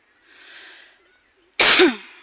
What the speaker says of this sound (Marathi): खोकला एक लागल्यात